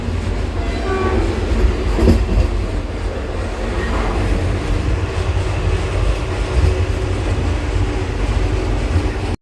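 A Vande Bharat express train rumbles along steadily with a deep continuous roar and faint rattling of carriages, loud and close throughout, heard from inside.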